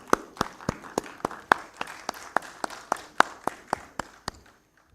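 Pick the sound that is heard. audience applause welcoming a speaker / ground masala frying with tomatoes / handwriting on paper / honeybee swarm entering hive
audience applause welcoming a speaker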